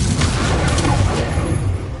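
A booming, crackling blast from the Incendio fire spell cast in a Hogwarts video game, loud and close, a dense roar lasting about two seconds with no talk over it.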